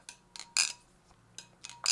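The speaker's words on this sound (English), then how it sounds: "I've never heard a Balisong sound like this." A balisong butterfly knife with a static rep build and anomalous liners is flipped, giving several crisp, bright metallic clinks in two quick groups with short quiet gaps, close and fairly faint.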